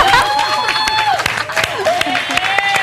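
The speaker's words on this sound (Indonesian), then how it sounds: "Udah 30 detik tepuk tangan dulu." A studio audience claps on an Indonesian TV talk show, a steady wash of applause and cheering lasting several seconds, with voices talking over it.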